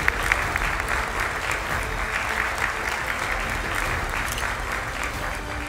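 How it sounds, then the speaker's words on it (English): Audience applause at a graduation ceremony, sustained clapping from a large crowd in a hall, steady and dense throughout with no break. "A round of applause for our faculty."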